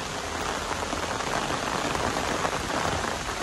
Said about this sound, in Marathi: पाऊस वाढलाय.